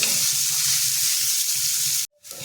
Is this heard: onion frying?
yes